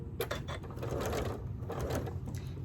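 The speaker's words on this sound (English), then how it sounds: "sew up to that point." A sewing machine stitches quilt binding on a large quilt, a steady, fairly quiet rapid mechanical whirring with rhythmic needle clatter, close by and alone.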